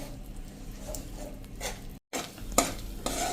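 Jaggery melts in ghee in a pan on the stove for churma ladoo, with soft stirring, faint sizzle and a few scraping clinks of a utensil close by.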